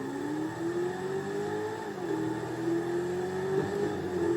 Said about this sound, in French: je trouve elle fait un super bruit